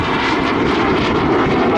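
A steady, loud aircraft engine roar holds throughout, a broad continuous drone of a BAC Strikemaster jet trainer passing close by at an airshow in Southport, with no voices.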